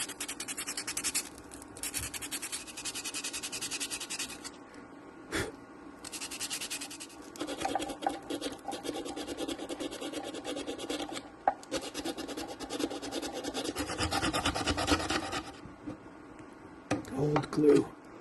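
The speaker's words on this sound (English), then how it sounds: "this 120 grit is taking it off better" 120 grit sandpaper rubs back and forth along a violin neck during a repair, a close, continuous, scratchy rasping in uneven strokes that carries on for the whole stretch, with a few brief knocks.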